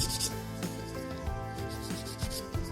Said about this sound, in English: I am using the Nailchemy metal file, which I absolutely adore.